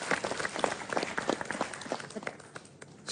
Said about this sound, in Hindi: तालियां भाई, सबके लिए।